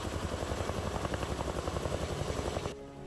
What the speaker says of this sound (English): The helicopter carries the water bag